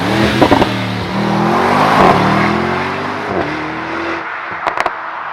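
A 2025 Mercedes-AMG SL 63 with a 585-horsepower V8 bi-turbo revs loudly, its pitch rising and falling through several sweeps before dropping away, followed by a few sharp pops near the end.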